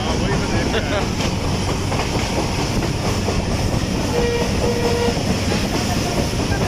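The Shah Latif Express passenger train runs on rails through mango orchards, a steady loud rumble with rhythmic wheel clatter heard from onboard, continuous throughout.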